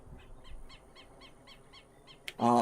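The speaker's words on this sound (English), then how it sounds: "You can hear the birds chirping in the background." Repeated soft bird chirps from the Farming Simulator 25 video game at a steady rhythm over quiet ambient background, followed by a brief louder burst at the end.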